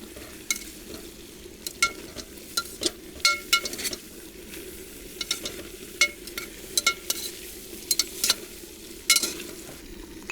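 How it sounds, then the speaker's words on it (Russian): Plov frying in a pan as cumin, curry and spices are stirred in, with a spoon scraping and clinking against the pan in irregular strokes over a continuous soft sizzle. "Пока что перемешаем."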